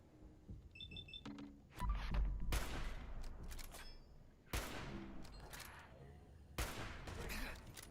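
Rifle gunfire aimed at a turret in Fallout 4, three loud separate bursts of shots spaced a few seconds apart, each trailing off, with faint game beeps between them.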